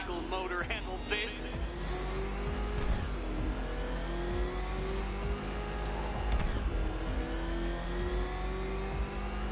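A racing video game car engine, called a ramshackle motor, revs steadily and loudly for the whole stretch, its pitch climbing and dropping as it accelerates, with a few brief knocks and surges layered over a continuous drone.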